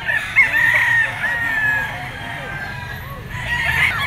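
A yellow-legged bulik bull stag gamecock crows close by, its strained call repeating across the stretch with clucking fowl around it.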